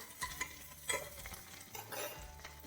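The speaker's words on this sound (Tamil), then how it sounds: "வெங்காயம் நல்லா வதங்கணும்" Small onions sauté in a pan with a quiet sizzle, broken by several scraping strokes of a spatula stirring them, soft and close.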